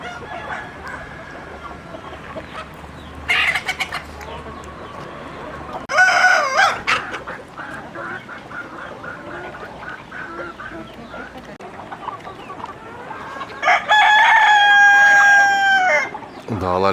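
Backyard hens and a rooster cluck steadily, with a loud crow rising near the end and a few sharper squawks in between, close by over constant outdoor background noise.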